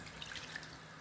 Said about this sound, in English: now I'm just going to catch a little bit of water.